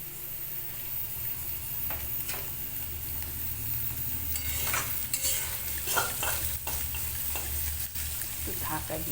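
Potatoes fry in a pan with a continuous sizzle as dal is stirred in, and repeated spoon scrapes and clinks sound close by at irregular intervals.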